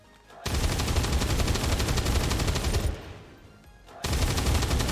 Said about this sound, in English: I really like the sound of the Gauss cannon.